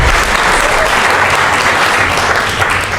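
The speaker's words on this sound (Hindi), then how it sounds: "अच्छी सी तालियां बजाइए" Loud, dense audience applause at a poetry event at an awards night, steady clapping from a large crowd filling the whole moment, close and continuous with no talk.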